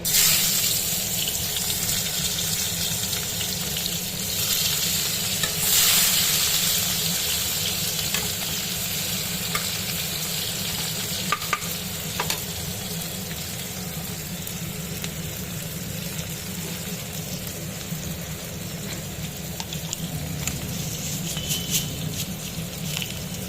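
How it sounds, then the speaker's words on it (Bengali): Sliced onions sizzle in hot oil in a pan while a fish-bone chorchori dish is being cooked, giving a steady broadband hiss throughout with a few faint clinks, close up and without speech. "ওই তেলেতেই পেঁয়াজগুলো ছেড়ে দেবো"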